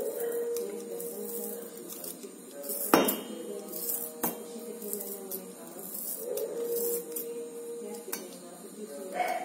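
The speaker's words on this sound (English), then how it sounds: "So we'll cut this coriander." Fresh coriander being chopped with a knife on a board, a handful of sharp scattered knocks and clinks with quiet background hum between strikes, close and moderately loud.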